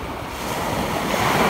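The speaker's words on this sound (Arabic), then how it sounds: "عارفين فين راني راني في البحر" Sea waves wash onto a shore in a steady, rushing surge that swells slightly louder toward the end, with wind buffeting the microphone.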